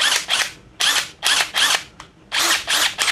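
Kamolee 700 Nm cordless impact wrench being tested for strength: loud, close bursts of rapid hammering rattle, about seven short runs of a fraction of a second each, separated by brief pauses.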